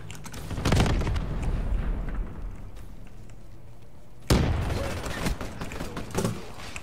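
Sniper shots ring out in a multiplayer shooter game, two heavy booming reports about three and a half seconds apart, each trailing into a rumbling decay over continuous game ambience.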